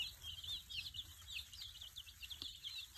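Young chicks chirp continuously in a cage, a dense layer of high, overlapping peeps close by, with a faint low rumble beneath and no talking.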